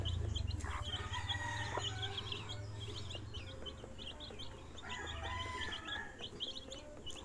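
Hens, including a Mestizo Basilan hen, cluck steadily and a rooster crows from nearby, with small birds chirping and occasional low rumbling bursts underneath.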